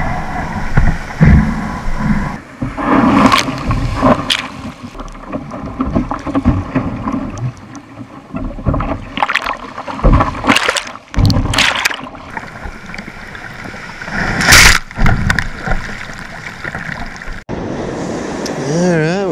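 A kayak paddles out on the ocean, with splashing paddle strokes and moving water running throughout, under frequent talk.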